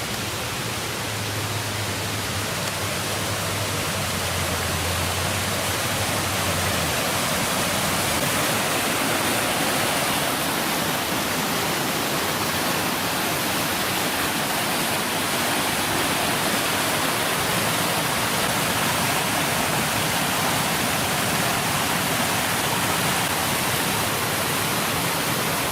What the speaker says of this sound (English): waterfall up there